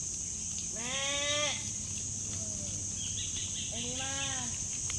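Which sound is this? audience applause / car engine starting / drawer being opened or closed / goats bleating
goats bleating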